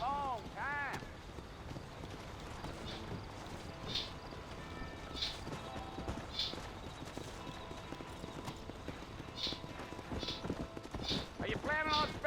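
Horse hooves clip-clop in the video game Red Dead Redemption, a steady rhythmic trot near the listener, with a whinny at the start, game characters talking, and occasional chimes over it.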